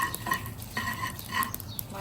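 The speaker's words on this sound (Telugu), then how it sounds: "ముక్కలుగా చేసుకున్న కొబ్బరి అయినా ఇలా ఫ్రై చేసుకోండి." Coconut pieces frying in a very hot pan, with soft sizzling beneath repeated scraping and stirring clatter of a utensil against the pan, close and steady over two seconds, no voices.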